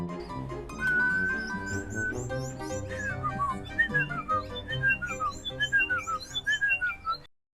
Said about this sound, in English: instead John got another bird to whistle this tune non-stop